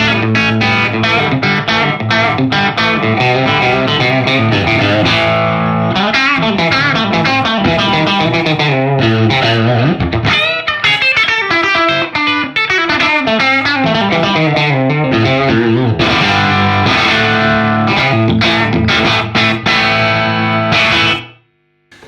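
Electric guitar through a Headfirst Alta100 amp on channel 1, bridge pickup, played with a driven, distorted tone: continuous chords and riffs, loud and close, ringing out and cutting off sharply at the end.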